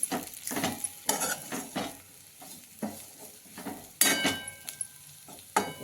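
Bitter gourd pieces are stirred in plenty of oil in a pan, giving repeated close scraping strokes in an uneven rhythm over a light sizzle, with occasional sharper clinks of the spoon.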